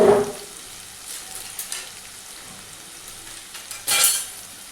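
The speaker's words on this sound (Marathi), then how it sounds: "त्या कांद्याला चांगलं मऊ करून घ्यायचं आधी." Onion softening in hot oil with a pinch of asafoetida, a soft steady frying hiss with a couple of louder stirring scrapes near the start and near the end, no voices.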